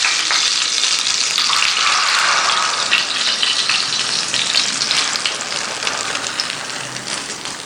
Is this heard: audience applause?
no